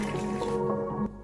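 Hot water poured out for a morning drink, a soft trickling liquid stream with gurgling that stops abruptly near the end, heard up close and alone.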